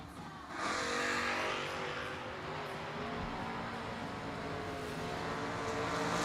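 Footbrake drag race cars run down the strip at a Thanksgiving event: a sustained, distant engine roar swells suddenly and holds steady as the cars race, with no talk over it.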